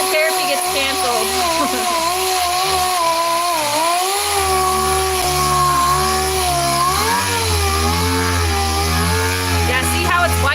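A power sander grinds paint off a yellow Dodge, a loud continuous whine that wavers in pitch as pressure shifts, with a person talking over it.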